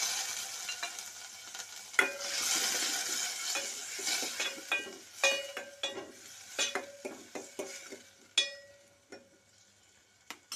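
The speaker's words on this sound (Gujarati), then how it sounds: "પછી ટમેટાનો વઘાર કરીશું" Chopped tomatoes frying in hot oil with garlic and asafoetida for a Gujarati dried-fenugreek curry, a steady broadband sizzle close by, broken by repeated sharp clinks and scrapes of a spoon stirring against the pan, with no voices.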